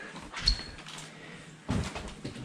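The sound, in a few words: door closing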